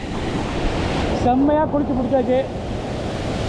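The steady roar of the Kallathupara waterfall fills the scene as broadband rushing water, continuous and close, with someone speaking over it partway through.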